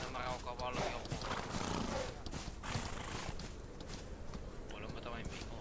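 A horse moves about in the Old West video game Outlaws of the Old West, with hoof clops, snorts and a whinny under talking throughout.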